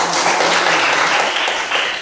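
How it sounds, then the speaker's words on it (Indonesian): Students in a school classroom applaud a group after its presentation, a close, dense burst of clapping from many hands that stays strong for a couple of seconds. "Ya, tepuk tangan buat"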